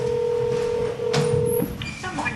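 A telephone number is dialed on a phone keypad, giving a short sequence of close, clear electronic key tones of different pitches, one after another.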